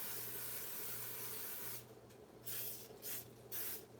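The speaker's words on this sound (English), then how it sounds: "even though they're silicone, you still need to hit it with a little bit of nonstick spray." Short bursts of nonstick cooking spray hiss onto a silicone mold in a kitchen, several close puffs in a row over a low steady background hum, with no talking.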